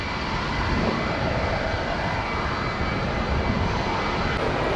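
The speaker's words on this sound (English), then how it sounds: "Delta's 2211 757 rocket ship service to ATL." A Delta Boeing 757 jet takes off at Tampa with a loud, steady, broadband engine roar that holds evenly throughout.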